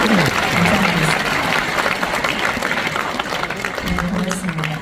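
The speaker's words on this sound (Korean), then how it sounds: "여러분 수고해주신 세 팀에게 다시 한번 박수를 보내드립니다" Audience applause in a concert hall for three performing teams at a peace concert, steady clapping from a crowd with a voice speaking over it at times.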